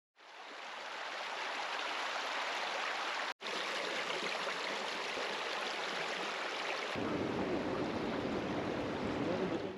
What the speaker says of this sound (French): il y a une rivière descendante d'eau thermale chaude dans laquelle on peut s'arrêter et tremper les pieds